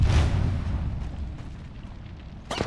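A grenade goes off in the video game Apex Legends as a loud, deep boom right at the start, then a rumbling decay and a sharp crack near the end.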